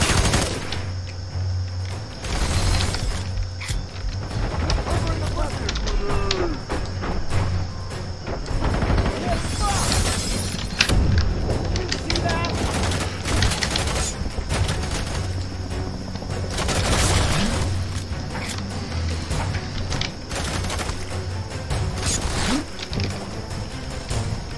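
Rapid gunfire and heavy explosions from the shooter video game F.E.A.R. 3, loud sustained bursts of automatic fire broken by booms and crashes throughout, with a voice talking over parts of it.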